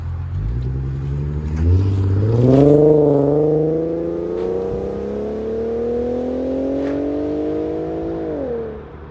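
An Infiniti Q50 with a 3.7-liter V6 revving through its exhaust, a loud nearby engine climbing in pitch, holding a rising drone for several seconds, then dropping off at the end.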